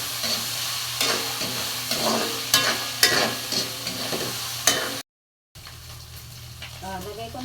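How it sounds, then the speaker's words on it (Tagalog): Garlic sautés in cooking oil in a pan set up outdoors on a mountain, crackling in a bright, steady sizzle with rhythmic stirring scrapes, broken by a short silent gap before the frying resumes more faintly. "Mag-umpisa na tayong mag-gisa. Lagay ko po yung bawang."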